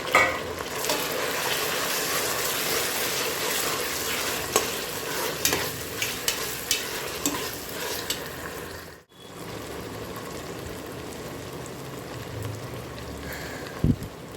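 Ginger, garlic and tomato sauté in a pan for a mutton dalcha curry, with a steady close sizzle and frequent clicking stirring strokes. The sound breaks off briefly partway through, then resumes with a knock near the end.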